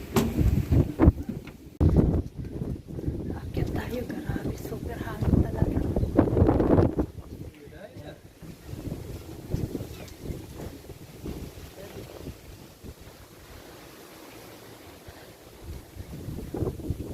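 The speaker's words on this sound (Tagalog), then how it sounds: "Super hangin talaga." Strong wind buffets the microphone in loud gusts, with people talking over it and calmer stretches between the blasts.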